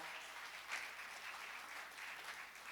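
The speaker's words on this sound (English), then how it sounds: "big round of applause for y'all." Audience applause during a church service honouring Christmas volunteers, a steady wash of clapping from a crowd, moderately distant and even throughout.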